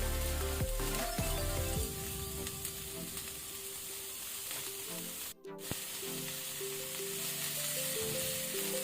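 Chopped onion and a medium tomato fry in a pan for onion pulao, giving a steady close sizzle and crackle throughout, broken by a brief stirring scrape near the middle.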